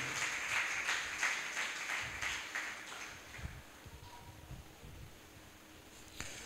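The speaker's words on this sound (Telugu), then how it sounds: "చప్పట్లు కొట్టి దేవుని నామాన్ని ఘనపరుద్దాం." Congregation at a church sermon clapping to praise God, a rapid dense burst of applause at the start that thins to scattered claps and fades out.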